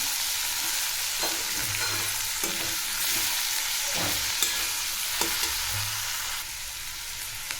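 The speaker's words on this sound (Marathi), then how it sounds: "थोडंसं तीळ टाकायचं आहे आणि चवीपुरतं मीठ टाकायचं आहे मिक्स करून घ्यायचं" Sesame seeds and salt being stirred into vegetables in a hot pan, with a loud continuous sizzle and repeated scraping and clacking of a spoon against the pan.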